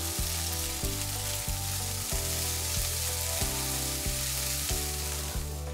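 Green onion whites and shallots fry in a pan with a steady, even sizzle that runs throughout, heard under continuous rhythmic background music.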